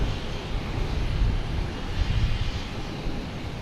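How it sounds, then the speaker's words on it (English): JetBlue Airbus A320 arriving at Boston Logan from Punta Cana, a continuous low engine rumble and roar, moderately loud and fairly steady over a few seconds. "Next arrival is JetBlue. A320 coming in from Punta Cana."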